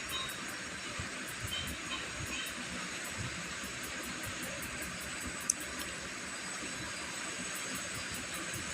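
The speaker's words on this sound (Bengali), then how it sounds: "দেখো ফুটতে রয়েছে।" Chicken kasha curry boiling in a pot: a steady, soft hiss and bubbling simmer, faint and continuous, with a quiet repeating tick overhead and one small click partway through.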